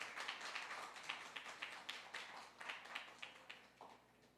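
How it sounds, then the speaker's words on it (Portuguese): Church congregation clapping in praise, a steady run of fairly faint, rhythmic claps heard from a distance in a worship hall, with no talking over it. "A salva de palmas a Jesus"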